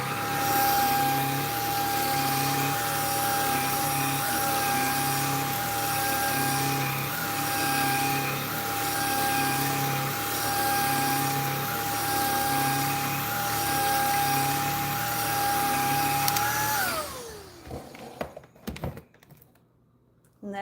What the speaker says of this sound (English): Another vacuum.